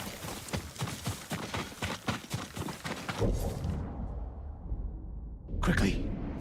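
Galloping horse hooves in Ghost of Tsushima pound in a steady, fast rhythm for about three seconds, then give way to a low rumble and a brief whoosh, with game dialogue over the top.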